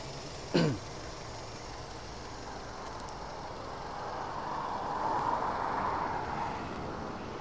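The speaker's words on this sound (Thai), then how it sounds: "ไป ดูฟังเสียงเครื่องยนต์" A steady, low engine rumble from a 2007 Toyota Soluna Vios 1.5E automatic sitting at idle, preceded by a single sharp click near the start.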